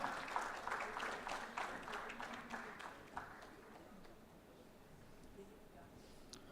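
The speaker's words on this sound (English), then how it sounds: "Give them a huge round of applause, everyone." Audience applause for a panel at a Champion of Change presentation, a soft, fairly distant patter of clapping that fades out over a few seconds.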